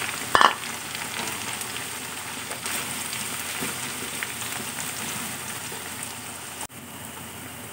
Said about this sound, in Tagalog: Sutay muna natin. Para pwede na rin natin siguro isama yung sibuyas.